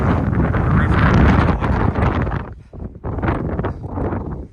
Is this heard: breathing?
no